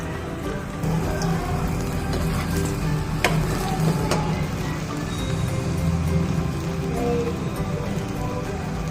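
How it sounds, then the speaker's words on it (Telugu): Veg Manchuria balls deep-fry in hot oil with a steady, dense bubbling sizzle that runs unbroken, close up, with a couple of brief sharper crackles early on. "ఇవి గోల్డెన్ బ్రౌన్ వచ్చినంత వరకు మనం బాగా వేయించుకోవాలండి."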